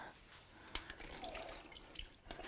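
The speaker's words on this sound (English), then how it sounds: "Then we're going to drain the beans." Water running and splashing as canned beans are drained in a kitchen sink, a steady close wash of liquid with a few sharper drips and splashes.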